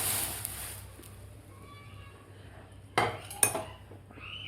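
Butterscotch falooda premix is stirred into boiled milk in a metal pot, with quiet scraping and two sharp spoon-against-pot clinks near the end.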